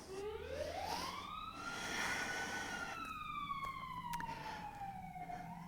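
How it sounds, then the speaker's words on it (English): A single siren from a nearby fire station wails, rising sharply then slowly falling in pitch, moderately distant over faint background noise. "I don't know if you can hear the sirens."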